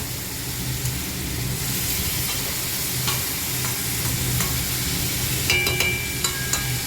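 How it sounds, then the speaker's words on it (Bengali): Steady, continuous sizzling of small fish frying in a pan, with occasional light clinks and scrapes over a constant hiss. "এই যে ছোটো মাছগুলো ভাজা হচ্ছে"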